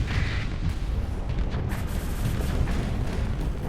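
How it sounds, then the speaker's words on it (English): A ram IED detonates in a video game: a loud, sustained, rumbling blast with heavy low-end roar and crackling debris that holds steady for several seconds without pause. "That wasn't as big of an explosion, but I guess that wasn't the cruiser-sized one either."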